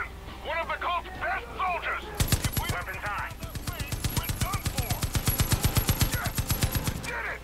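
Rapid automatic gunfire in the shooter game Far Cry 5, a long run of evenly spaced loud shots after a person speaks briefly, with a few single shots before the burst.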